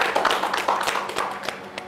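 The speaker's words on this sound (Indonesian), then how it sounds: "Tepuk tangan" A group claps their hands together after a team game result, a moderate patter of individual claps that thins out toward the end.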